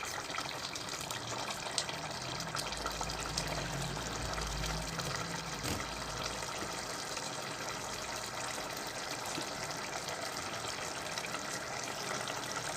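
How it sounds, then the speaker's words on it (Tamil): Tomato thokku simmers and bubbles in a pan on the stove, giving a continuous bubbling hiss with occasional low thumps, steady and close, with no talking. "இப்போ ஒரு 10 நிமிஷம் நல்லா கொதிக்க விடலாம்."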